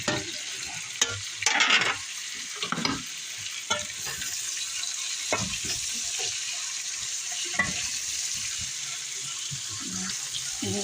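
Pork stir-frying with onion, carrot and broccoli in a pan: a dense, close sizzle with repeated scraping and clattering stirs in uneven bursts, no talk.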